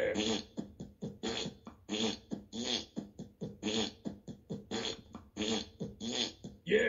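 Alexa smart speaker fart sound effect: a rapid series of wet, sputtering fart noises in uneven bursts, loud and close, played alone without talking.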